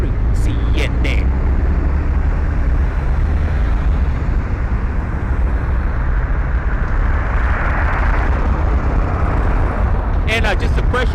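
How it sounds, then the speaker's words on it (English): A Southwest Airlines Boeing 737 takes off from Las Vegas Harry Reid International Airport, making a loud, sustained jet roar that swells and then eases. A person speaks briefly at the start and again at the end. "this is gonna be Southwest Airlines SWA 2492 heading over to DEN, Denver, Colorado. And this is gonna be a Boeing"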